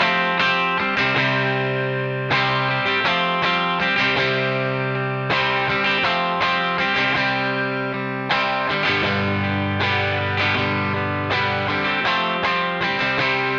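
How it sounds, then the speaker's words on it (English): Chunky overdriven electric guitar chords through an amp played in a tight, driving rhythm, with brief pauses between phrases and a thicker low-end section near the end. "that really ballsy rhythm sound with the amp overdriven a little bit"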